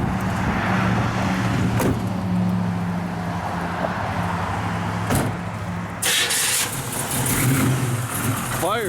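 A 1972 Chevrolet Nova SS with a 383 engine and a Demon carburetor runs loud and close, a steady rumbling idle with a couple of sharp clicks and a brief rise in revs, while someone talks over it.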